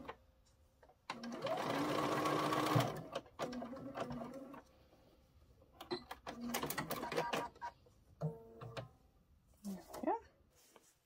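Sewing machine basting across the bottom of a pencil case with a long stitch length, in a sustained loud run of stitching followed by shorter bursts, with a person talking between them.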